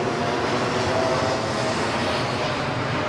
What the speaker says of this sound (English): Ed, there's planes. There's planes overhead.